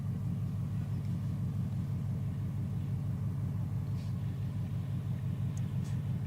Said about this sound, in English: Oh, it's a piston engine.